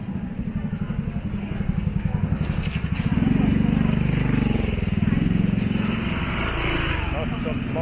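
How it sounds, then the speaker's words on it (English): Motorbikes fill busy street traffic near Wat Arun, a close, continuous buzzing of small engines that swells and fades as they pass, with a speaking voice over the mix. "Lots of motorbikes."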